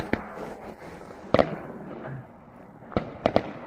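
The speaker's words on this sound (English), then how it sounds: "What else can you do when they set off fireworks?" Fireworks crack and pop in separate sharp bursts, one early, one near the middle and a tight cluster at the end, heard from a distance outdoors in Nuuk, Greenland.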